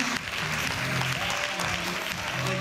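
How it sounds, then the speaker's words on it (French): An audience applauds a chocolate-competition prize winner, a continuous wash of clapping mixed with background music and some voices. "avance-toi pour recevoir les applaudissements du public."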